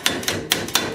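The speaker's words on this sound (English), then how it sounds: "looks like I can hammer them in" Metal bushings are hammered into the rear shocks of a 2009 Polaris Ranger, five sharp ringing metal strikes at an uneven pace, loud and close, with no voices.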